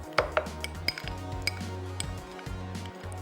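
Utensils clinking and scraping against a bowl while chicken marinade with Himalayan pink salt is stirred, a steady run of close, light metallic taps and knocks with a low hum underneath.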